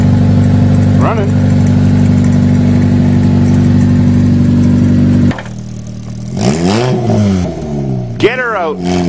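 A Nissan Sentra's engine runs steadily at a close, loud idle for about five seconds, then cuts off as voices and clattering noises take over.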